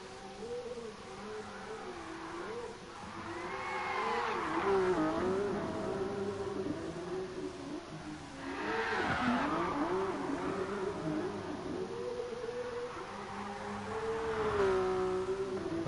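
A car drifting on the Nordschleife in GT Sport: a continuous engine drone rising and falling with repeated tire squeals swelling through long slides, loud and steady with no voices.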